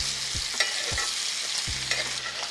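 Butter sizzling in a skillet with herbs, garlic and shallot gives a steady close hiss, broken by a few soft stirring or spoon scrapes, with no voices.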